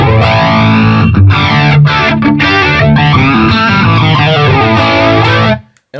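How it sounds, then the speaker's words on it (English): A distorted electric guitar through a Line 6 Helix with a sweeping, whooshing flanger effect placed after the amp, chords ringing loudly and continuously before cutting off abruptly. "after this, I have the Flanger, which I use quite a bit"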